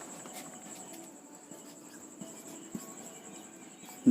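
A pen writing a physics definition by hand on paper, with a faint continuous scratchy scrape carrying a few light taps, close and quiet with no talk.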